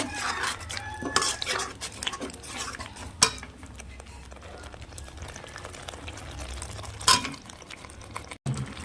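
Potatoes sautéing with ginger garlic paste, chili and cumin powder for Kashmiri aloo dum, a low sizzle under spoon scrapes and occasional clinks against the pot, close by, no talk.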